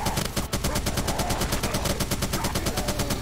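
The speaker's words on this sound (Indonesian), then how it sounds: "Don't stop shooting." Sustained rapid automatic gunfire in Left 4 Dead 2 during a fight against two tanks, a loud, steady hammering stream of shots with no pause across the whole stretch.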